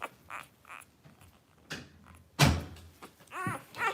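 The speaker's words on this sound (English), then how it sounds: "Close that door, please." An indoor door is pushed shut, producing one solid thunk with a brief rattle midway through, amid quiet household rustling and a faint whine afterward.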